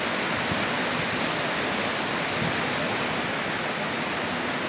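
Heavy, steady roar of high water rushing over Canada Falls Dam, loud and continuous throughout with no voices, a dense broadband wash like a close waterfall.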